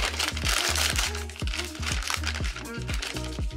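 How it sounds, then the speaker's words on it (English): Crinkly plastic surprise bags from a Barbie tie-dye set are cut and opened close up, giving repeated loud crinkles, crunches and rustles in quick bursts, with a voice speaking in the background. "let's go ahead and cut open these surprise bags and see what's inside of those"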